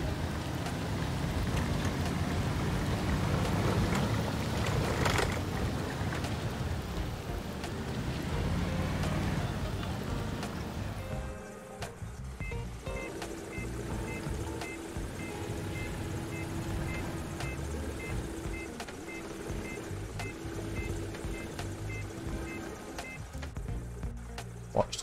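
An airport ground service vehicle in the AirportSim game gives a steady, loud engine rumble that cuts off around the midpoint, leaving a quieter ambient hum with a faint tone.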